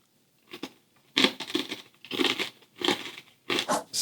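Loud, close crunching of hard, brittle peanut brittle being bitten and chewed, in several bursts with short pauses between.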